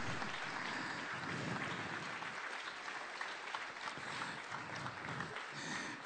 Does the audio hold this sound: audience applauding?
yes